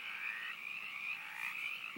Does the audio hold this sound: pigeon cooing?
no